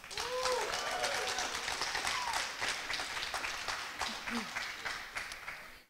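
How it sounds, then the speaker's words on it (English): A crowd claps steadily in sustained applause at a student debate, loud and continuous, tapering off at the end, with a few faint voices mixed in. "the affirmative team, give you a round of applause"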